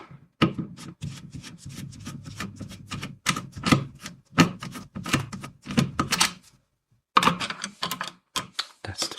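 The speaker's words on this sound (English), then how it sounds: "To get to the batteries we have to remove these 2 screws." Close, small clicks and scraping taps from a screwdriver working screws out of the battery cover of a Parkside PBBK 4 B1 compact folding work lamp, in quick irregular bursts with a short pause partway through.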